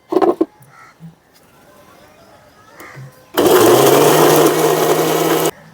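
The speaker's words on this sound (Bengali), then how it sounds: "আম আর দুধটাকে একসঙ্গে মিক্সিতে ব্লেন্ড করে নেব।" A mixer grinder blending mango and milk for ice cream, starting with a few short clicks and bumps, then a loud, steady whirring motor roar for about two seconds before it cuts off.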